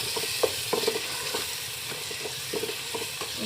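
Spices stirred into a frying masala for turnip and fenugreek sabzi, a steady sizzle with scraping spoon strokes against the pan, close and alone.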